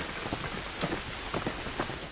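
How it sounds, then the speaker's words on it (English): Steady rain falls outdoors in the video game The Last of Us, a soft, even hiss of drops with faint scattered patters throughout. "This rain ain't gonna do us any good."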